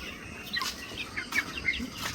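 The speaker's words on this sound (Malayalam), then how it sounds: "നമുക്ക് 3 കോഴിക്കുഞ്ഞുങ്ങൾ കൂടിയുണ്ട്" Three young chicks let out a few soft, high peeps, faint and scattered against a quiet backyard setting.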